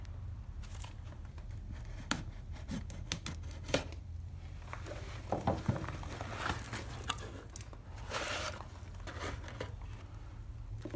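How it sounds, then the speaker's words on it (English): Packaging of a Pathfinder PSK03 knife kit being unboxed: faint, close crinkling and rustling of paper and plastic with scattered small clicks and taps, no voices. "we're going to do this unboxing with the Pathfinder PSK03, the knife kit"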